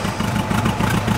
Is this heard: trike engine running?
yes